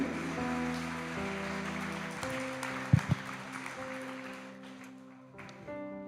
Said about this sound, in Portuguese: Dá para você dar uma salva de palmas para Jesus aí?